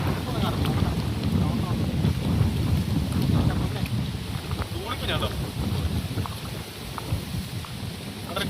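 Steady heavy rain pours outdoors during a village hook-and-line fishing outing, a dense continuous hiss with gusts of wind buffeting the microphone and no clear pauses.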